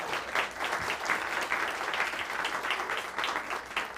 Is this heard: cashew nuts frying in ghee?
no